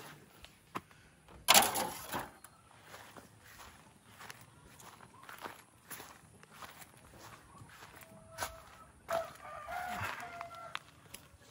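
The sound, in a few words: chickens and rooster crowing on a farm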